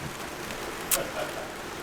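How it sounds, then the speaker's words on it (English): Heavy rain pours outdoors at a weightlifting competition in Tokyo, a constant dense hiss that sounds muffled and smoothed, with one brief sharper splash near the middle. "it's because the rain is so loud that I've done a noise reduction"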